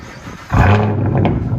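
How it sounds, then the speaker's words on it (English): A 2016 Chevy Camaro LT1 with a six-speed manual and dual straight-pipe exhaust revs hard after a quiet moment, giving a loud, deep, sustained roar close by with no talking. "This is the owner of the car revving it"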